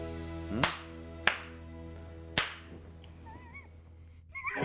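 A film clapperboard slate snaps shut three times on a music video set, each a sharp, close, loud crack spaced about a second apart, followed by faint movement and a brief whistle-like sound.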